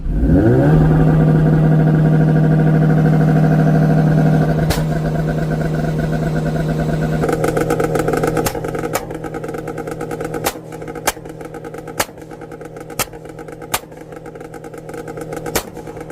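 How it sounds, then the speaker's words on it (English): A Honda S2000 engine with its stock exhaust holds a high rev with a buzzing exhaust note, then drops and settles into an uneven idle with sharp intermittent pops and blips. "The stock exhaust sounds good also."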